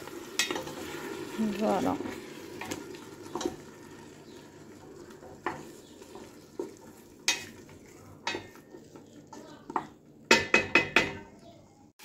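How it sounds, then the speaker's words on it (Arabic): Harissa and tomato paste frying with beans in a pot for Algerian red bean stew, a soft sizzle under repeated clanks and scrapes of a spoon stirring against the metal, with brief speech. "نحط شويه هريسه برك تتقلى معاهم"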